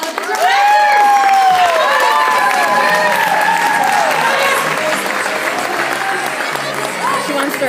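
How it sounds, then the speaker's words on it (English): Audience applause and cheering for future sales directors taking their seats at a career event: dense, loud, sustained clapping with whoops and shouts throughout, steady from start to finish. "we give them a huge deserved round of applause"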